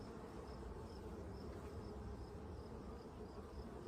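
Honeybees buzzing around a Warré hive frame while they are brushed off its underside, a steady, dense hum with no pauses, close and continuous throughout.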